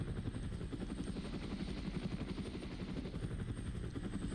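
Helicopter in the video game Arma: Resistance, a steady rotor chop with a dense low thumping pulse and engine roar held at constant loudness throughout, close and without talk.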